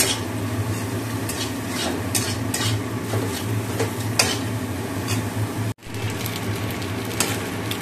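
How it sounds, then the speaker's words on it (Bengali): Potatoes and carrots fry with onion in a pan: a loud, continuous sizzle with scraping stirs and light utensil knocks, broken by one brief drop-out near the end. "এই দেখো আলু গাজরটা ভেজে নিচ্ছি পেঁয়াজ দিয়ে"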